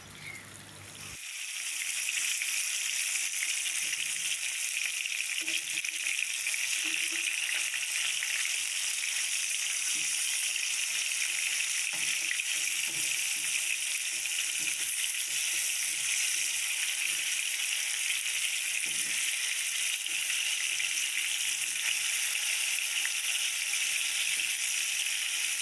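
Fish fries gently in a pan over a low flame, giving a steady, even sizzle that holds unbroken for the whole stretch, close and without voices.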